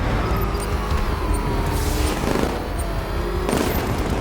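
Heavy gunfire and explosive booms in Batman: Arkham Knight, a dense, loud barrage of shots with crashing bursts filling the scene without speech.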